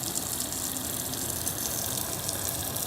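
Steady shower water spraying and splashing onto a car sunroof, a constant broadband rush with no pauses, fairly close and uniform throughout, no voices.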